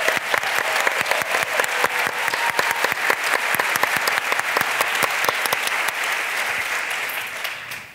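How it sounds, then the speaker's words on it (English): A large audience at the 10th-anniversary Wisdom 2.0 conference breaks into sustained applause and cheering, dense and loud throughout, easing slightly near the end. "let's applaud the 10th anniversary with a big round of cheering for Soren."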